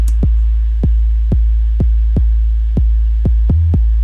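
Gqom-style 808 bass played without a top kick: a steady train of deep booming sub-bass hits with only a tiny transient, about eight evenly spaced pulses, loud and alone, ending in a quicker pair.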